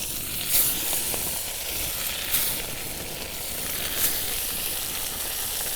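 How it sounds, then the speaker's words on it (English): Walleye pieces pan frying in hot oil, a continuous close hissing sizzle with a few brief sharper spits and pops, steady and fairly loud with no talking. "It's gonna be a quick cook, quick pan fry walleye"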